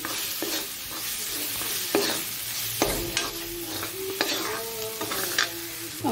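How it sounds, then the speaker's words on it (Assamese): Crab curry masala of ground spices sizzles in oil in a pan, while a spoon scrapes and stirs in repeated strokes under a steady frying hiss. "এতিয়া আৰু এইখিনি মিলাই গোটেইখিনি ভালদৰে ভাজি ল'ম।"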